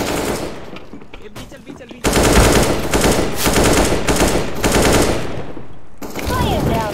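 Rapid automatic gunfire from a Counter-Strike style shooter match on the Cache map, loud bursts after a quieter opening with game sounds, continuing in sustained volleys with a short gap near the end.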